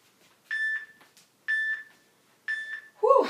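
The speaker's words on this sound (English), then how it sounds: "Just listen for the beeps" Three evenly spaced electronic workout interval timer beeps sound about a second apart, close and clear, during a high-intensity cardio circuit, with a brief voice sound right after the last one.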